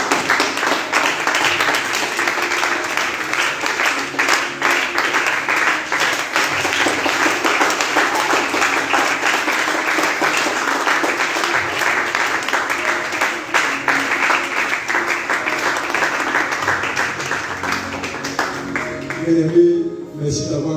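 A church congregation at a prayer and teaching meeting in Yopougon applauds and cheers loudly, with dense continuous clapping and shouting that holds steady for about twenty seconds before tapering off, while voices call out over it.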